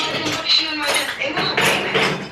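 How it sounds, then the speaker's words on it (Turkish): Dishes and cutlery clink and rattle steadily as they are put away in a home kitchen, a busy run of small metallic and ceramic knocks close by, with a faint voice in the background. "Bir yandan bulaşıkları yerleştiriyordum."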